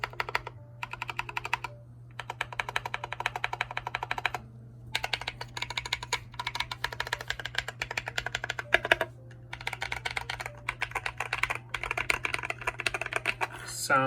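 Typing on a red, white and blue KBDFans 5 Degree mechanical keyboard fitted with Holy Panda switches: steady bursts of close, crisp keystrokes in runs separated by short pauses, over a low constant hum.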